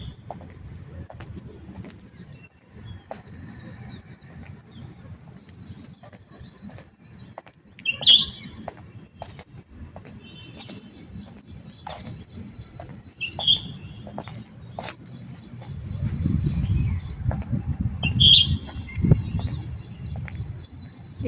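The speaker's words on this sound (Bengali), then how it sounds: "একদম সকালে উপরে এলে কত পাখির আওয়াজ চারদিকে, কত ভালো লাগে।" In the early morning on a rooftop, birds give scattered, faint chirps. Three brief, sharper calls rise above soft twittering and a low background rumble, with no talk.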